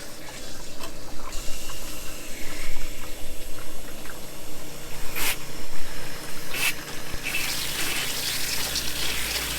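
Hose water pours into a garden sprayer tank while its pump is primed, giving a continuous close gushing, splashing flow that stays loud throughout and grows brighter toward the end.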